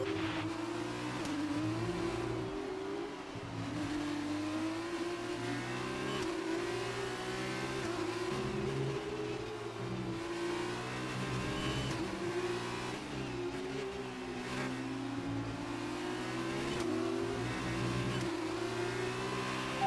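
A race car engine drones loud and continuous throughout, rising and falling in pitch as it revs through gears during a race in the F1 2018 video game, with no voices over it.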